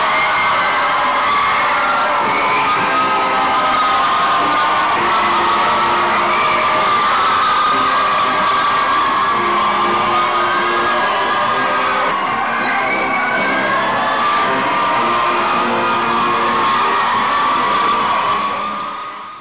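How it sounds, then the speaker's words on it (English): A large crowd roars, cheers and whoops continuously inside a gym as soldiers return home, the sound loud, sustained and echoing throughout. "greeted by the roaring crowd."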